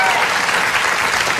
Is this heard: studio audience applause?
yes